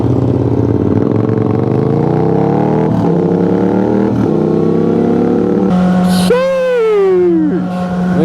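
A motorcycle engine revs and pulls steadily during a ride to a car meet, loud and close. Its pitch climbs through the gears, and a sharp rising whine near the end may be a passing vehicle.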